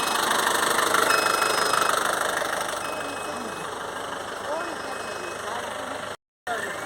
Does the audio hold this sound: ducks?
no